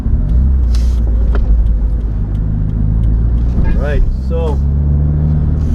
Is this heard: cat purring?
no